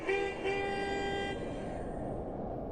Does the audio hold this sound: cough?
no